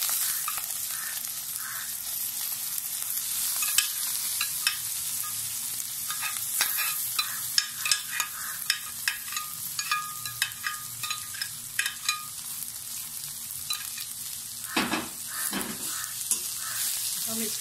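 Mashed potato bhurta sizzles as it fries with half-cooked onions in a pan, with steady frying hiss and repeated scrapes and clicks from stirring throughout, close and alone with no talking.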